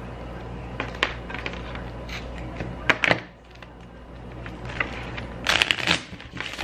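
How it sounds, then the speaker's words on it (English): A deck of playing cards shuffled indoors in a few quick riffling bursts, soft and close, with brief clattering snaps and quiet pauses in between. "A little shuffle just to show off."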